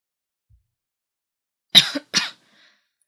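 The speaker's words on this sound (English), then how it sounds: "By the way, I do have a cough." Two sharp, close coughs in quick succession break an otherwise silent moment.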